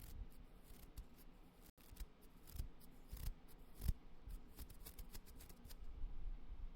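A toothbrush scrubs with quiet, scratchy bristle strokes in an uneven, brisk rhythm, faint and close with no talking.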